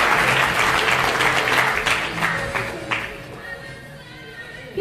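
An audience at a singing competition's results announcement in Ajka claps loudly in a sustained burst that slowly thins and fades over several seconds, with no talk over it.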